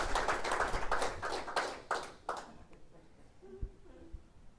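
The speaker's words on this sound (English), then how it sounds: "We'll give Jeff a round of applause." An audience claps briefly in a lecture hall, a burst of hand claps that thins out and stops after a couple of seconds, leaving quiet room noise with faint movement.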